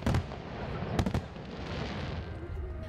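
Fireworks at the closing ceremony of the Asian Games in Incheon crackle and boom in a few sharp bursts over a continuous crowd-like rumble, with no talking.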